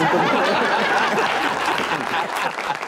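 Steady applause from a studio audience on a Pakistani comedy talk show, dense continuous clapping with light chuckles and voices mixed in, fading slightly toward the end.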